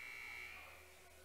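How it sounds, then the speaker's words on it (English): A basketball arena buzzer at a girls' high school game starts the second half, one sustained, steady electronic tone held for about a second that fades slightly, with a faint crowd underneath. "there's the buzzer to start the second half"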